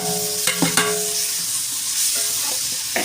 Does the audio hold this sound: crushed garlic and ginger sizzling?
yes